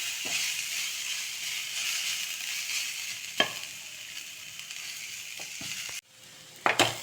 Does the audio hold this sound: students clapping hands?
no